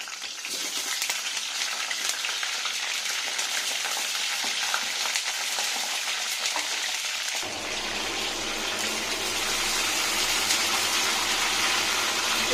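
Stuffed pointed gourds (potol) sizzle in hot white oil, a steady dense frying hiss that swells louder and fuller partway through as the filled gourds go in, continuing close and unbroken with no talk.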